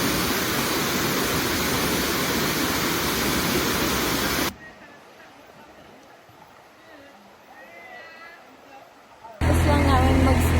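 A waterfall in Southern Leyte produces dense, loud, rushing roar for about four seconds, then cuts to quieter ambience with faint voices before the loud water rush returns abruptly.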